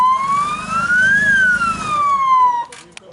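An ambulance siren wails in one smooth rising and falling sweep, loud and fairly close, then stops abruptly, leaving faint background noise and a brief knock.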